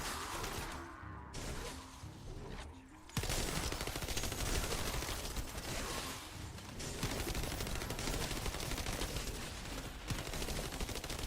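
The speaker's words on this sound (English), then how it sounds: "You can see the rockets hit them, but there's no explosion." Rockets fire in rapid succession and strike enemies in The First Descendant, a dense, continuous barrage of blasts and impacts with no clear pauses, loud and alone.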